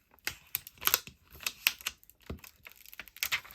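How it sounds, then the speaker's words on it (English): Cricut vinyl decal transfer tape being peeled back by hand, a close series of crackly, sticky ripping bursts in irregular rhythm, with short pauses between pulls. "and then we'll peel it back again."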